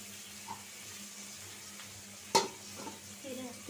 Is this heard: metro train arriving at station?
no